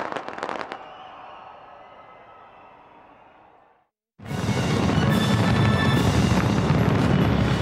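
New Year's fireworks burst over Auckland's Sky Tower in New Zealand: a few sharp cracks, then a gap of near silence before a dense, loud, sustained roar of overlapping explosions and crackling fills the night air.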